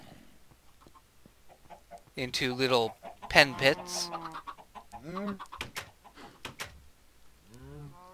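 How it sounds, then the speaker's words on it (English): Chickens and cows in a farm pen in a video game cluck and low in short, scattered calls, while a person talks over them. "Got my cows and chickens moved over here"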